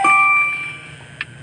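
A phone's text message notification rings out as a bright, clear ding that sustains and fades over about a second, followed by a couple of small clicks, close and alone.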